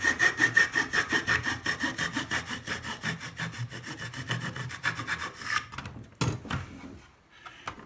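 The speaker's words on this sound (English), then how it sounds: "So the first thing you should do is use a saw or some kind of knife. Cut down through the nose and the forehead." A saw cuts through the nose and forehead of an original Pancake brand welding hood made with wood veneer, giving rapid rhythmic rasping strokes up close that slow and end with a few knocks and scrapes.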